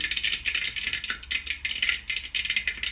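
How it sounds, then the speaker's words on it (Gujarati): Mustard seeds popping in hot oil, a dense rapid crackle and rattle of tiny bursts, close and loud, continuing without pause and with no voice. "મસ્ત મજાની રાઈ ફૂટી ગઈ"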